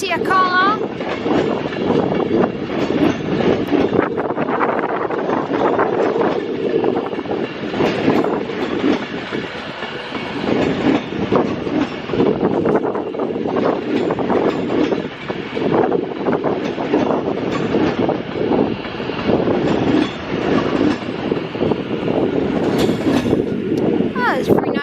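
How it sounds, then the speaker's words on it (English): Class 197 diesel multiple unit 197-114 passing through Crewe station on its way to Chester, a steady rumbling roll with rail clatter sustained at close range, with a voice talking over it throughout. "As 197-114 makes its way to Chester."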